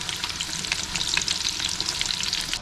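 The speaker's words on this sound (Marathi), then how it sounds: "इकडे बघू शकता असं फ्राय होतं आपलं. चांगलं फ्राय झाला पाहिजे." Chicken pieces fry in a masala coating in a hot pan, a dense continuous sizzle with stirring scrapes, close and fairly loud with no talking.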